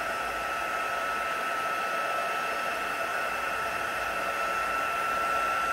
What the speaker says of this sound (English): I'm gonna heat up my embossing heat tool to its hottest setting